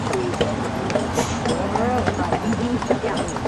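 Carriage horses Molly and Dolly standing at their stand, hooves clopping and shuffling in quick, irregular steps close by, with people chatting over them throughout.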